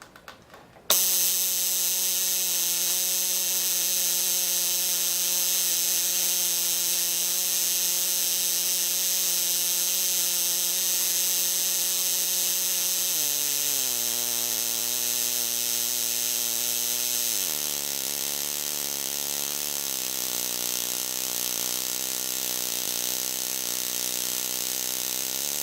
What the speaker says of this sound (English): here's the effect of airflow over the spark gap